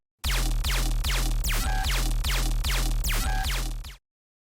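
Tearout dubstep synth layers from Serum combine into a loud, bass-heavy, grinding loop with a steady chopping rhythm and sweeping grit. It runs for about four seconds, then cuts off sharply, with no voices.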